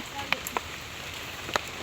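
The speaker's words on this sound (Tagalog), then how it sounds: "ito po ay malakas ang ulan" Steady hiss of heavy rain pouring down, with a few sharp knocks and taps breaking through.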